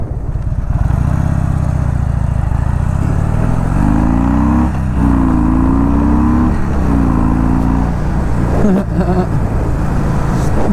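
A Harley-Davidson Low Rider 103 motorcycle engine idles with a deep, loud, close rumble, swelling through a couple of revs and settling back into a steady throaty thrum.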